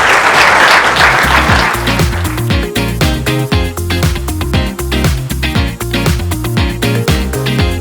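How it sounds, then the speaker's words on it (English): Audience applause for participants at a youth mobility innovation pitching finale starts as a loud wash of clapping, then gives way to a rhythmic beat with music-like patterns running through the rest. "Huge round of applause for all our participants."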